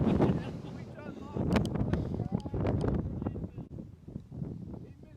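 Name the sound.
gusts of wind on a golf course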